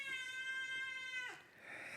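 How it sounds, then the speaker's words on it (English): A pet cat named Lucy gives a single drawn-out meow, high and tonal, ending in a breathy falling tail, close to the microphone with no speech. "And I am being paged by my cat."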